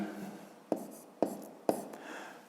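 A pen writes by hand on paper during a fifth-grade math exercise, giving three sharp taps over a faint scratching, quiet and close.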